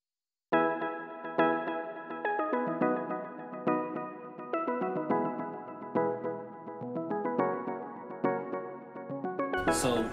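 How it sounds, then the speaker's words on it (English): A synthetic steel drum patch from the Expand plugin plays a bright, bell-like melodic pattern of repeated struck notes with chord stabs, steady and close, with no talking, ending in a short burst of noise. "It's a synthetic steel drum from Expand, and it sounds like this."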